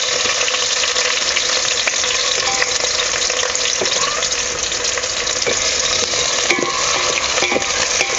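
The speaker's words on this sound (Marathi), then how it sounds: "अगोदर आपण कांदा आहे ना चांगलासा परतून घेऊया थोडस लालसर होतपर्यंत" Thinly sliced onions sizzle steadily in hot oil while being browned for chicken biryani, a loud continuous frying hiss with occasional scrapes of a stirring spoon.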